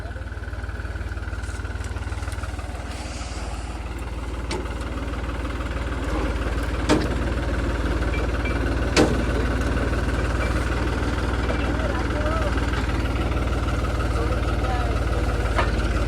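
A tractor engine idles at a steady, low rumble close by while a trailer is being loaded, with a couple of faint sharp knocks over the drone.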